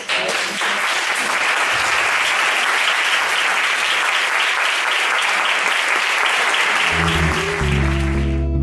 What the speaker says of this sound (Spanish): Poner un aplauso.